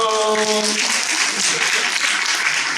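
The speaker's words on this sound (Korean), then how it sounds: "박수" Applause from attendees at a briefing by a welfare society for the blind and deafblind, a loud, dense wash of clapping that follows a brief voice at the start and continues evenly.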